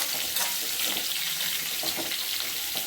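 Bitter gourd sizzling in sesame oil in a pan, a steady close hiss of frying with a few soft stirring clicks, no voices over it.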